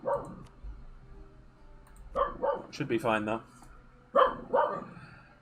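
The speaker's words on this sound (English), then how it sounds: "Dog. Dog!" A dog barks a few times indoors, short loud bursts that overlap with someone talking nearby.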